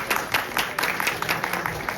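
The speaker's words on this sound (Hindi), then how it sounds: "एक बार जोर तालियां हो जाए अपने लिए।" An audience applauds at a poetry open-mic event, a dense patter of many hands clapping steadily for a couple of seconds at moderate volume, a little distant.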